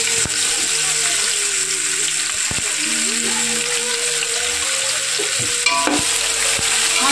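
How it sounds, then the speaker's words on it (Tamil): Onions for chicken biryani frying in a pan, a loud, continuous hiss of sizzling oil with occasional stirring knocks and clinks close by. "ஆனியன் கொஞ்சம் நல்லா ஃப்ரை ஆகட்டும்"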